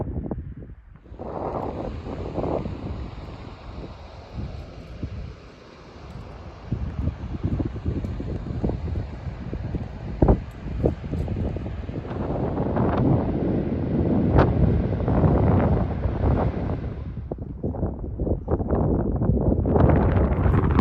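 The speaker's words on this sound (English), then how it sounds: "Wind has picked up a bit on this side" Strong wind on a mountain trail near Mount Hood, roaring and buffeting the microphone in a continuous rush that gusts louder at times, with occasional rustles and no voices.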